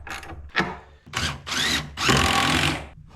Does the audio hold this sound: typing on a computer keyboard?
no